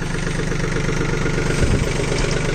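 A Swaraj Target 630 4WD mini tractor engine runs steadily at close range, a loud continuous diesel drone with a slight low bump near the middle and no talking.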